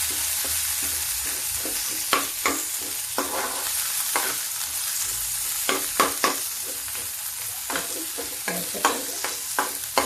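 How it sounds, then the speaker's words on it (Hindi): Onion cooks in a pan for a whole green moong and red masoor dal, a low continuous sizzle punctuated by a dozen or so sharp spatula clinks and scrapes at an irregular stirring rhythm. "अब ये प्याज पक रहा है"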